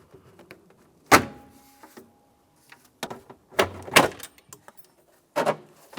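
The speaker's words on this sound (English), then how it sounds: "Now we can take hold of this panel and pull it away from the vehicle." Plastic interior trim panel on a 2000-2006 Chevrolet Tahoe being pried and pulled loose, giving a sharp snap followed by several scattered clicks and cracks, close and fairly loud with quiet gaps between.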